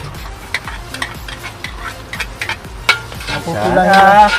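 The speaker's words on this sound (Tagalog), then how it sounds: "maggigisa na tayo. Alright. Ngayon na natin yung bawang" Garlic being sautéed in a pan for Filipino taro rice, with scraping stirs and clatter early on, then a louder, rising sizzle as the garlic hits the hot oil near the end.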